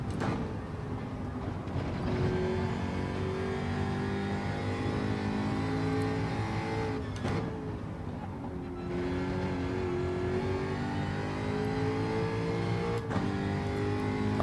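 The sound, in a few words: race car engine in Gran Turismo 7 video game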